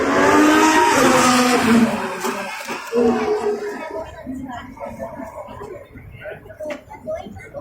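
Formula 1 car lapping during Singapore Grand Prix practice: a loud, high engine whine dominates the first couple of seconds, then fades under a commentator's talk.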